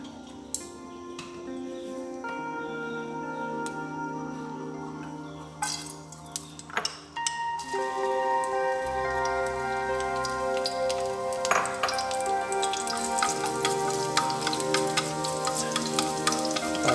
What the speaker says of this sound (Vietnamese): Sẽ dầu sôi chúng ta sẽ bỏ tỏi vào.